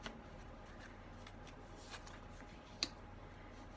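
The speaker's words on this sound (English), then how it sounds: "I'm hoping I'll be able to shuffle the Crystal Spirits deck." A Crystal Spirits oracle card deck is shuffled quietly and close up, with soft riffling cards, scattered light ticks and one sharper snap near the end.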